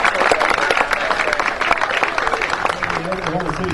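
A crowd applauds the golfers and the Oklahoma City team at a golf championship awards ceremony, steady clapping with cheering voices mixed in, loud and close throughout.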